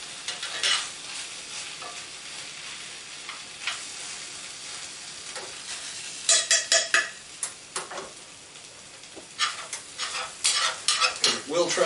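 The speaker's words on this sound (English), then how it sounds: "Turn up the heat on the pan, give it a couple extra minutes like this. stirring frequently." Rice frying in a hot pan over high heat, stirred frequently, giving a steady close sizzle with repeated scraping and clinking bursts of the utensil against the pan, busier toward the end; no talking.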